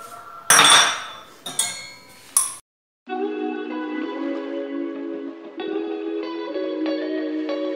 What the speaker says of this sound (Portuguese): Guardar essa louça aqui, gente, ó. Já tá quase seca.